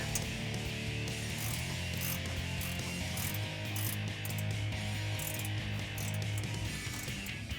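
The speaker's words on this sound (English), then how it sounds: "I've got a ratcheting wrench here." A ratcheting wrench turns an exhaust bracket bolt on a Jeep Wrangler JL, giving rapid close ratchet clicking in repeated bursts over a steady background hum.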